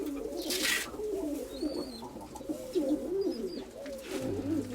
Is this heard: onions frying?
no